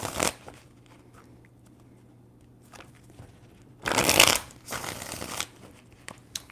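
Tarot cards are shuffled by hand in a few quick bursts: a brief riffle at the start, then a louder, longer shuffle followed by a second one, separated by near silence.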